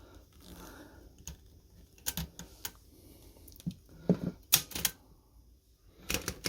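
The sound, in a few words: 104-year-old Corona 3 typewriter mechanism being operated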